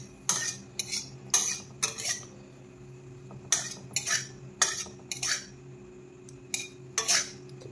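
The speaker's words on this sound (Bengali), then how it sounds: "এই কাজু বাদাম দিকটা ভেজে নেবো।" Cashew nuts frying in a pan, stirred with a utensil: repeated scraping and clinking strokes in short bursts over a steady low kitchen hum, fairly close.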